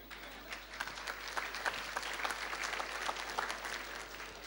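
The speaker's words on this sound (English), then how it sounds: "So can I applaud you?" Steady audience applause closes a debate, a dense, even wash of many hands clapping at moderate distance, sustained without pause.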